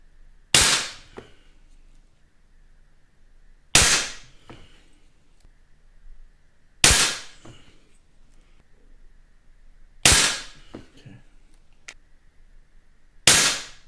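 A Beeman P17 air pistol fires Crosman domed pellets at a 10 m target, five sharp, close snaps spaced about three seconds apart, each with a short ring-off and a faint impact after.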